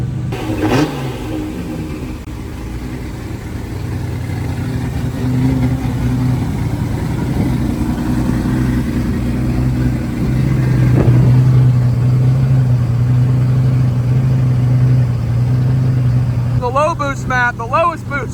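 Nissan S13 with a 1.5JZ engine running on a dyno, a loud continuous engine drone that builds and holds high revs before easing off, with a sharp whine near the end.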